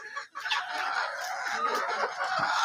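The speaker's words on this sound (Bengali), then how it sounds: "এই যে ডিম পাড়া ফার্মে মুরগিগুলো দেখতে পাচ্ছেন" Laying hens on an egg farm cluck steadily and close by, a dense overlapping chorus of many birds with no talk.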